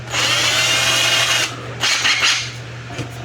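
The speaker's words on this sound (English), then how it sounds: "So I will use a drill on this" A power drill whirs steadily for over a second, stops, then runs again in shorter bursts with brief pauses between, close by.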